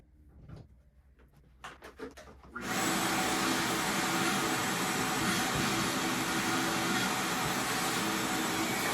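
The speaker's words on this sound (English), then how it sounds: "otherwise I don't know where I'd plug in this vacuum" A vacuum cleaner plugged into a newly installed electrical receptacle starts after a few scattered clicks and handling knocks, then runs with a loud, steady roar.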